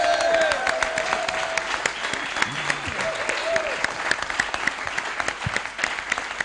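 An audience in a hall bursts into sustained applause at a live public radio broadcast, thick continuous clapping with sharp individual claps popping through and a faint voice underneath.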